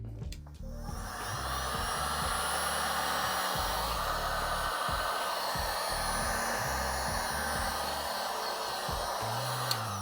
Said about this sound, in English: we're gonna get out our heat gun, and we're gonna give this just a little bit of heat